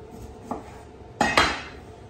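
A utensil clinks and scrapes against a bowl while seafood stuffing for lobster, shrimp and scallops is beaten, giving a few brief, close knocks with a quiet pause between them.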